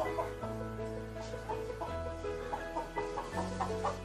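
Laying hens in a coop of about fifty birds, several clucking and murmuring together in overlapping calls, close and steady with no talk.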